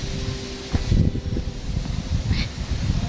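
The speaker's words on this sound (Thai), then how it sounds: "ทุกคนได้ยินเสียงลมไหมเย็นมาก" Cold wind blowing outdoors at night, a steady low rumbling buffet with gusts that swell and ease across the whole stretch, no voices over it.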